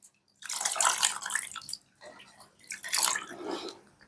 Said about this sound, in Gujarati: અંગૂઠેથી પાણી આવવું જોઈએ